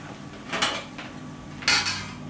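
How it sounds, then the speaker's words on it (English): A spoon stirring kapusta, a Polish cabbage dish, in a pot, giving three scraping, clanking strokes against the metal, close and distinct over a quiet background. "going to stir this a little more"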